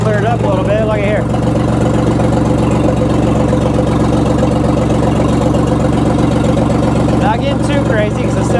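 A 1978 backhoe engine idles loud and close after its first start in years, a steady low diesel rumble throughout, with someone talking over it at the start and again near the end.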